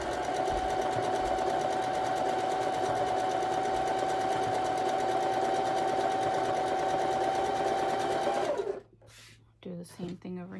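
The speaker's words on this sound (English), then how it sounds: "And sew that together." A sewing machine stitches quilt block pieces in one steady, loud run lasting about eight seconds, then stops abruptly, leaving brief quieter handling noises and a voice speaking toward the end.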